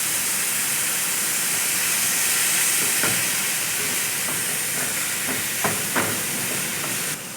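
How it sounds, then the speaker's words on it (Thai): Minced pork hits a hot pan with garlic and dried shrimp, giving a loud, steady sizzling hiss that lasts throughout, with a few faint clinks of a utensil in the pan. "นำลงผัดกับกระเทียม ตามด้วยกุ้งแห้งค่ะ"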